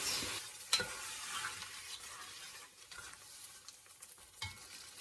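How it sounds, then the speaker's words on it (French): Curry in a pan being deglazed with tomato sauce coulis gives a steady sizzling hiss with stirring scrapes, and one sharp clatter near the start and another near the end. "je vais déglacer et arrêter la torréfaction avec la moitié du coulis de sauce tomate"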